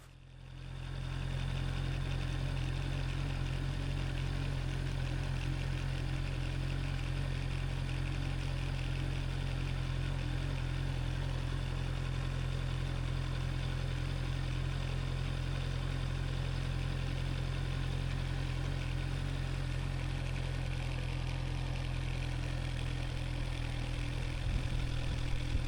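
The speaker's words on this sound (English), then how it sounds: "Just let the clutch out slowly, hit that friction zone," Motorcycle engine running steadily with the clutch eased out slowly through the friction zone, a constant low hum that rises in at the start and holds for the whole stretch, with no voices.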